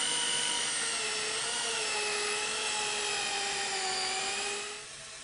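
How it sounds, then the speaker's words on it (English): Angle drill spins steadily with a high, whining tone while sanding a wood off-cut turning on a lathe, then slows and fades near the end. "we can also use is an angle drill like so to sand"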